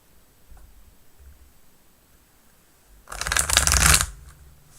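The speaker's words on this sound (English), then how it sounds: "Wow, lots of shuffling this morning." A deck of tarot cards is shuffled close by in a quiet room, a dense riffling burst lasting about a second after faint handling, with no talking.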